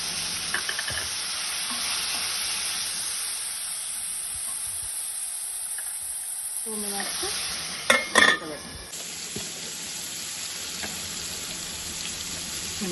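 Capsicum and onion frying in a covered pan with a little salt, Telangana style: a steady close sizzle throughout, with a few louder stirring clatters near the middle, and no talk.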